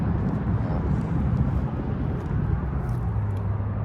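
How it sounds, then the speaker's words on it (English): Steady low road traffic rumble drones continuously beside a parked 18 ft French-style food truck with an onboard bathroom in Denver, Colorado, a broad constant wash of passing vehicles with no breaks. "I apologize for the road noise"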